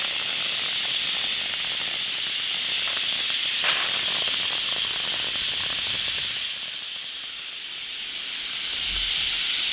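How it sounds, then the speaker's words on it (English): Steam hisses steadily and loudly from the release valve of a small Instant Pot pressure cooker cooking pulled pork, a continuous rushing jet that dips briefly near the end before surging again, with no talk. "Now you have to release the steam out of here, or you won't be able to break the seal on this this little Instant Pot to open it up."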